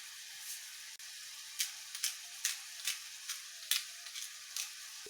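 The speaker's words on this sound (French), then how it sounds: "Voilà, j'ai fait revenir la viande." Minced meat browns in a pan for samosa filling seasoned with ginger, curry, salt and pepper, giving a steady soft sizzle with a string of quick sharp crackles and ticks, close and without talk.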